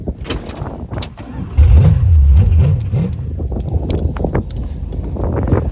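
A Dodge Dart engine drives slowly around a paddock, a low rumbling note that rises and swells partway through as the car pulls away, with some wind noise over the microphone.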